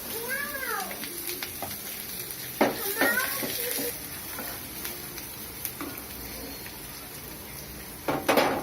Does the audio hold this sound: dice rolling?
no